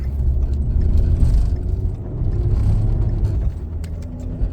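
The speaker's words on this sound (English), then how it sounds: "I'm driving on the interstate" A car cruising on the interstate, with a steady low road rumble and engine whir heard from inside the cabin, fairly loud and continuous, and no talk.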